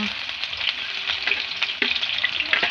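Onion, ginger and garlic sizzling in hot oil, a bright, steady hiss close by with light stirring scrapes and a brief clink partway through.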